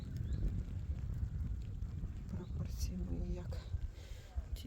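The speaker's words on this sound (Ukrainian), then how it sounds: "Бачите, який вітер сьогодні." Steady wind buffets the microphone with a low rumbling roar, and a few faint outdoor sounds come through underneath.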